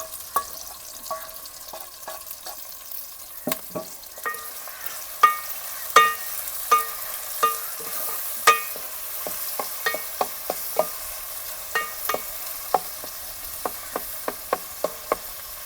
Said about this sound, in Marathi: कांदा टॉमॅटो शिमला मिरच्या आहेत ना त्या पण तेलावर शिजवून घेऊ